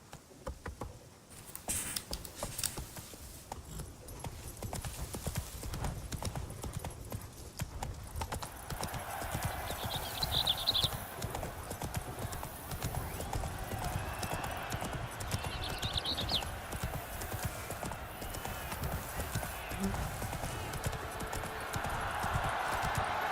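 Hooves of the horse Roach clip-clop steadily in The Witcher 3 video game, a continuous galloping patter that grows louder and busier midway, with faint wind and a brief whinny-like cue in the mix.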